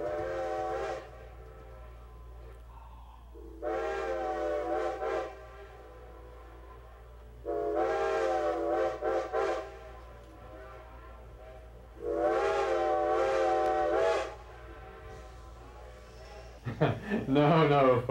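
Steam locomotive whistle at Carpenter's Crossing, a historic New Hampshire railroad crossing: four long chime-like blasts with pauses between, each answered by a distant echo, followed at the end by a brief burst of closer sound.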